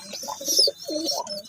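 Rajshahi local Giribaz pigeons coo close by in two soft, rolling phrases, with a faint higher chirp or hiss running above them.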